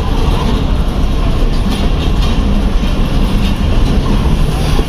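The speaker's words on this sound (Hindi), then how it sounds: "और अब हमने कोयटा से जो डिपार्चर है वो स्टार्ट कर दिया" Chaman Passenger train 221 UP departs Quetta railway station, a loud continuous rumble of rolling railway cars heard close from on board, with steady wheel noise throughout.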